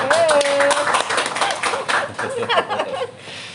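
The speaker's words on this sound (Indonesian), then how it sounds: "Yeay, tepuk tangan dong." Studio audience clapping at a talk show, a close burst of many hands that fades slightly toward the end, with a voice calling out at the start.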